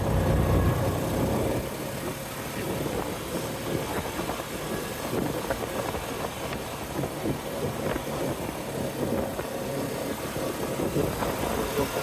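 A foot-shift machine's engine runs steadily nearby during maple sap collecting, a continuous rough idling rumble with slight vibration throughout.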